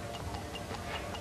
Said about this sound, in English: The vibrations from the ticking are going through the metal of the watch